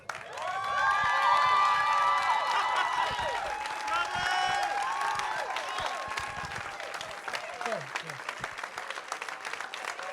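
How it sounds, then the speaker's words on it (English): Loud, sustained applause and cheering from a large crowd, with whoops and shouts rising early and then gradually thinning out toward the end. "Ladies and gentlemen, stand on your feet, make some noise for the star of Respect, the incomparable Miss Jennifer Hudson."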